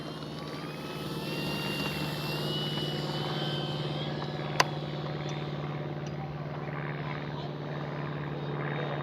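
A Flightline F4U Corsair RC warbird plane takes off, its electric motor and propeller making a steady drone that stays level and fairly close, with a sharp click midway.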